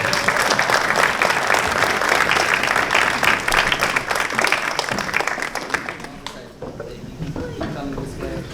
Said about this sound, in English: Round of applause for Miss Soto.